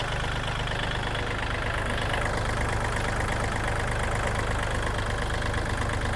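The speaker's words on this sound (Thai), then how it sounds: "เครื่องสตาร์ทติดง่ายนะครับ เสียงเครื่องปกติ" A Kubota L3218SP four-wheel-drive tractor, a 2023 model in nearly new condition, idles steadily with a loud, even low rumble and a constant engine drone, heard close up with no voices.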